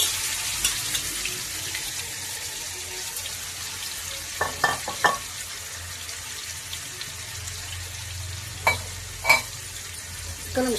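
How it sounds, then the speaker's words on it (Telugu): Fish for a fish curry sizzles steadily in a pan, with a few sharp scrapes and clanks of a spatula stirring now and then. "మనకి 1 నిమిషం ఇలా వేగిన తర్వాత"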